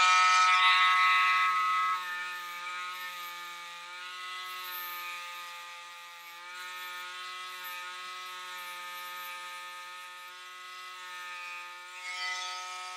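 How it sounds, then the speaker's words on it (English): A Dremel rotary tool grinds down a plastic toy, a steady high-pitched whine that holds for several seconds and shifts slightly in pitch as the bit presses into the material. "So I'm going to Dremel down"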